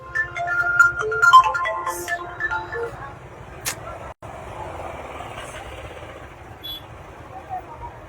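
An incoming call's phone ringtone sounds during an indoor talk about a kurta set sale, a tonal ringing pattern repeating over several seconds at moderate level, mixed with background noise and a voice talking.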